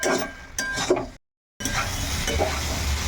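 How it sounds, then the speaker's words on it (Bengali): Fried soybean chunks and potatoes with spices are stirred and sizzling in a pan, with scraping stir strokes and a brief silent gap before the frying resumes. "এখন এই সয়াবিন আলু আর মশলা একসঙ্গে এটাকে কষিয়ে নেব ওই মিনিট 2-এর মতো।"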